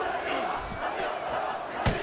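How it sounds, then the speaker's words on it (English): A Mexican crowd in a bare-knuckle boxing match in Fight Night Champion roars and chants steadily, with a dull thud near the end. "The Mexican crowd cheering"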